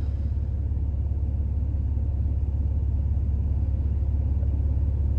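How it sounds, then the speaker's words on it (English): A truck at a loading site rumbles nearby with a steady low engine drone, continuous and even, heard from inside a hotshot pickup cab with no talk. "there's a truck moving."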